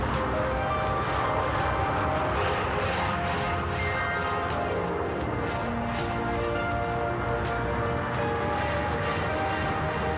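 Curtiss P-40 Warhawk fighter-bombers carrying 500-pound bombs run their propeller engines near an aircraft carrier, a steady throbbing drone with rhythmic pulses that continues for the whole span, no voices.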